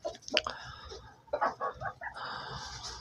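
Purebred laying hens kept apart in a lit coop cluck in a few short, close bursts, with quieter clucking and shuffling between them.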